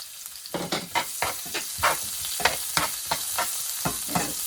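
Onions added to a pan of searing salmon sizzle steadily while being stirred, with regular scraping strokes about every half second over a continuous hiss, close and without talk.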